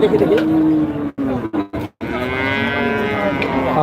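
Bulls bellow at a busy cattle market, with loud drawn-out moos close by, broken by short gaps, over background crowd chatter.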